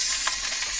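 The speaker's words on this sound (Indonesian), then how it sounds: "Ini sambalnya kalau nggak digoreng bawangnya kurang mantap sih." Onions fry for sambal in a pan at a forest camp, giving a brief, close, steady hiss of sizzling oil with one soft pop.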